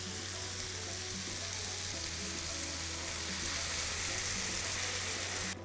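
White wine poured into a pan of seafood rice with a bay leaf, a steady, close hiss and sizzle that grows slightly louder, with a low hum beneath, no talk.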